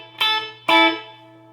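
Two ringing strummed chords on an electric guitar fitted with Seymour Duncan Pearly Gates humbuckers in the middle pickup position, bright and full, each decaying over a steady low hum.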